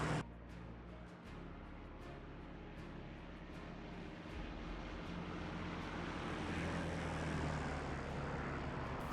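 A German bomber plane taking off, its engines making a steady broadband roar that slowly builds in loudness over several seconds, with no voices present.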